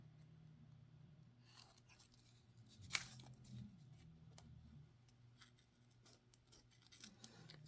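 Scissors snipping through a paper craft tag and tape, quiet close crisp cuts with one sharper snip among softer rustles, no talk.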